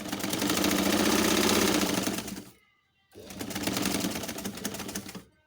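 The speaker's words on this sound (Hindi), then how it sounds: "इस तरह लाइन पे सिलाई करते जाएं" Sewing machine stitching a fabric cushion cover in two loud, close, whirring runs separated by a brief pause.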